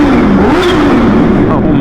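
A Kawasaki H2 motorcycle engine revs loud and close, a rising and falling roar over about two seconds, with a voice overlapping.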